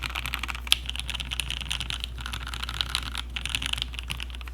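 Rapid, crisp key clacks from an HHKB Black Prophet keyboard fitted with H1 switches, typed in a steady flurry close to the mic with a few louder accented strikes.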